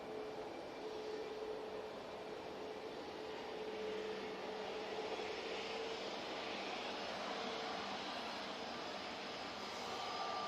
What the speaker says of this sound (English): there's another beast departing, that mighty air tanker